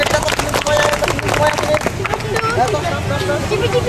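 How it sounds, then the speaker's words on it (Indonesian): Audience applause at a gathering, busy clapping mixed with crowd hubbub and voices, fairly close and loud throughout. "kita tepuk tangan dulu untuk kita semua yang di sini"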